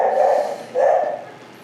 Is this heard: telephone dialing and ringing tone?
no